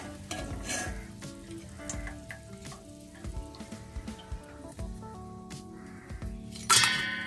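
Sliced cassava chips bubbling and sizzling in hot oil, a continuous crackling fry with occasional stirring clinks and a louder clatter near the end.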